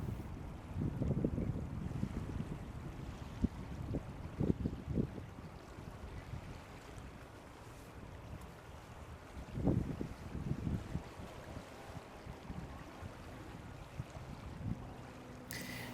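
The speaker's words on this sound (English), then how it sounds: "the wind was muffling through my microphone so loudly" Gusty wind buffets the microphone beside a lake where a Canada goose family rests, the low rumble swelling and fading in irregular bursts with no voices present.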